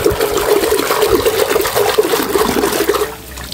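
A toilet flushing, a loud close rush and gurgle of water that runs steadily for about three seconds, then cuts off to quiet.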